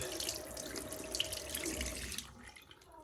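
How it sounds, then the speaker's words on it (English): Water running from a tap over a spectacle frame to cool it while it is held in shape, a steady splashing flow close by that tapers off near the end. "I actually cool it down with a bit of water whilst holding it in that shape"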